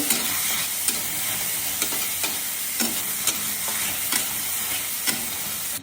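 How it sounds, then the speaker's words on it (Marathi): Tomatoes roasting in a pan, a steady bright sizzle with regular stirring scrapes every second or so, close and fairly loud with no talk. "टोमॅटो भाजून घ्यायचे"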